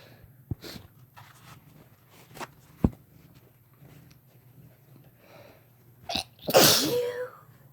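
One person sneezes once, loud and close, at the end of a quiet stretch that holds a few soft sniffs and small handling bumps.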